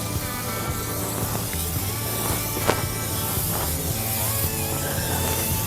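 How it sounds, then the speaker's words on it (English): A steady hiss of spray wetting down the charcoal tray of a Lonestar insulated vertical smoker, continuous and close, with a faint background hum and a brief clank midway. "So this is the charcoal tray. I'll get it all sprayed down here."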